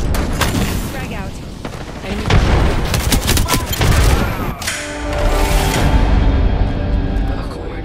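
Frag grenade blasts and rapid gunfire from Apex Legends gameplay, loud overlapping booms and bursts of shots with crashing debris, while in-game voices call out over the chaos.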